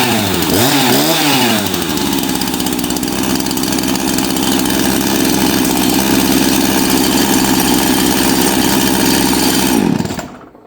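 A Jonsered 2149W Turbo chainsaw idles too high, its engine running loud and close with a steady, rough buzzing drone after a brief wavering rev at the start, then cutting off abruptly near the end.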